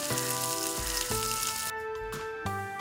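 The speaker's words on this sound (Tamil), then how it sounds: "நல்லா வதக்கி விட்டு நல்லா கிண்டி விட்டுடலாம்" Chopped onions and green chillies sautéing in a pan sizzle steadily while a spoon scrapes and stirs in repeated strokes, close up with no talk.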